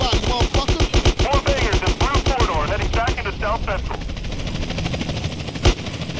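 Rapid automatic gunfire bursts loudly over a helicopter's rotor drone in GTA San Andreas, the shots dense at first then thinning into a steady whirring chopper roar with a single sharp shot near the end.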